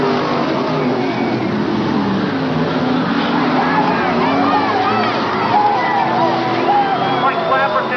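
Dirt modified race cars roar past at Afton Raceway in 1992 as the field takes the green flag off turn four, a dense continuous drone of engines with a crowd audible beneath it.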